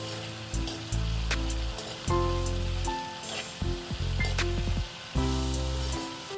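Mixed vegetable curry with tamarind pulp and jaggery is stirred in a pot over a steady sizzle, with repeated scraping strokes and a faint rhythmic mechanical hum rising and falling in bursts.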